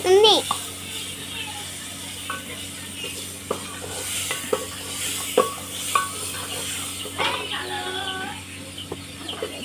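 Chickpea dal with ridge gourd sizzles in a pan while a spoon scrapes and stirs in sharp knocks, with a steady frying hiss underneath and voices talking over it.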